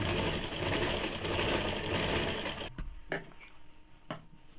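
A sewing machine runs a continuous loud stitching burst along a blouse seam, then stops, leaving a few sharp mechanical clicks and knocks.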